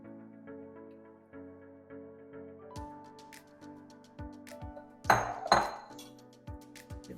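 A sour cream mixture is stirred into dry chocolate cake ingredients in a bowl, with scattered clinks and scrapes of a utensil against the bowl, louder near the end, over soft background music.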